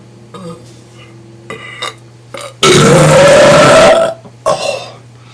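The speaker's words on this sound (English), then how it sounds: "No one's gonna top my burps." A man lets out one long, loud, deep burp lasting over a second, with brief talking and laughter before and after it.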